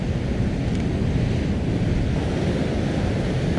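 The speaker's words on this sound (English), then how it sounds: "incoming surf" Ocean surf rolling in and washing over coastal rocks, a continuous loud roar of breaking water mixed with wind buffeting the microphone, no voices.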